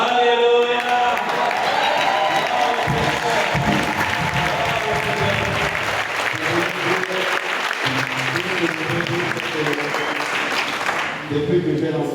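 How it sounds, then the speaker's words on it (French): A church congregation applauds and cheers for the Lord, sustained loud clapping and crowd noise filling the room, with a voice over it near the start and end. "Est-ce qu'on peut acclamer pour le Seigneur?"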